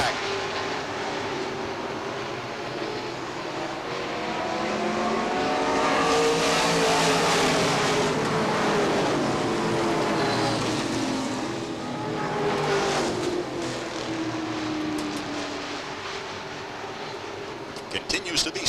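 Stock cars roar around Beech Ridge Motor Speedway in 1993 racing, a dense pack of engines swelling as they pass and fading down the backstretch, steady and loud beneath a race announcer's running commentary.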